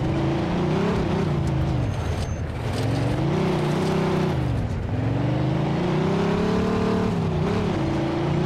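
Car engine in the Mafia II video game drones steadily and loudly throughout, its pitch rising and falling with revs and gear changes, with no talk over it.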